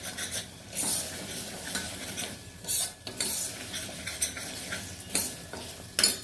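Vegetables sauté in a pan, with a steady frying sizzle broken by repeated scraping stirs of a utensil against the metal.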